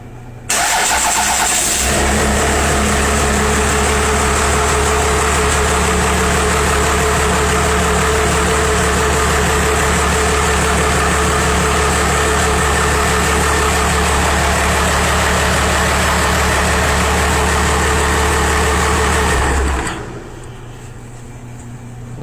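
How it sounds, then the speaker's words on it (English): A Cummins diesel fitted into a truck in a V-10 conversion idles loudly and steadily, a deep even rumble that starts abruptly after a short pause and runs alone for about eighteen seconds before cutting off. "Nothing wrong with that engine."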